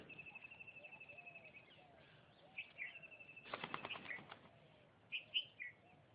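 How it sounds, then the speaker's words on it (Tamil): Spotted doves at a coastal bird sanctuary flutter their wings in a short burst of flapping, faint and distant, amid soft bird calls, chirps and low ambient noise. "இவை மணிப்புறாக்கள்."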